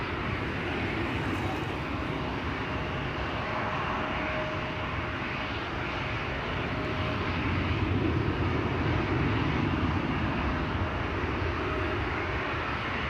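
An Air Baltic airliner operating for Austrian passes at Schiphol Airport, a broad, steady engine roar at moderate distance that holds for several seconds.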